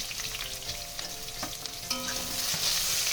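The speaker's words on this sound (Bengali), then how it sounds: "বেগুনটা আমি ভেজে তুলে রেখে দেবো।" Eggplant pieces, seasoned with salt and turmeric, fry in hot oil with a steady, close sizzle and crackle, occasionally disturbed by stirring.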